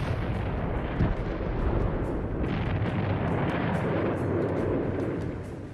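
A volcanic eruption powerful enough to destroy an entire island, heard as a loud, sustained, rumbling roar with crackling bursts and deep booms rolling on for several seconds.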